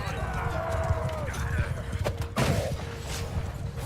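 Horse hooves clop through a chaotic medieval battle in the video game Mount & Blade II: Bannerlord, a steady galloping patter mixed under shouting voices, clashing weapons and constant battlefield din.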